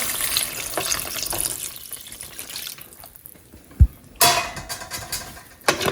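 Water pours into a pot of crab curry, a splashy running stream with faint clinks, a sharp knock near the middle, then renewed bursts of pouring toward the end.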